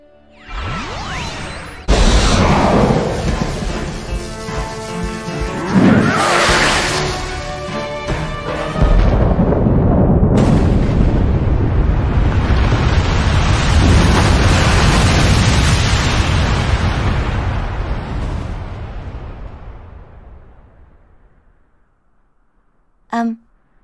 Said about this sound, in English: Explosion's over.